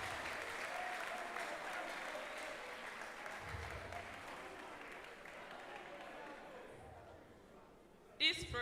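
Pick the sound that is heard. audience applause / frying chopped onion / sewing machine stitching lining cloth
audience applause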